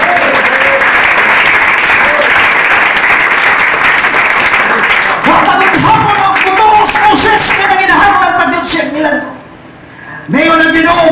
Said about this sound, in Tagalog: Palakpak taras, Ginoo.